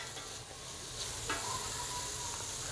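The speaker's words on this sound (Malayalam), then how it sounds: "നല്ലോണം വഴറ്റുക." Biryani masala sautés in a pan, giving a steady close sizzle with soft scraping stir sounds running throughout.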